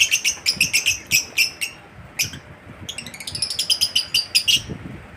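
Lovebirds in a new cage chirp loudly and close by in rapid bursts of sharp, repeated tweets with short pauses between volleys.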